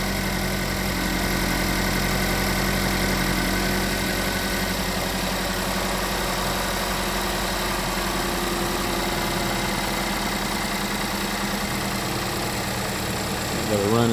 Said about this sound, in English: It might just be a rough running engine